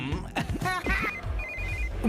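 A telephone rings with an incoming call, its bright repeating electronic trill cutting through over a bed of other sounds and voices in a scene from the Telugu film Manmadhudu 2.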